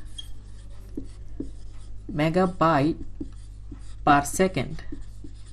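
Marker or chalk strokes on a board come as soft, scattered taps and scratches, mostly between and under a man's speech in Bengali.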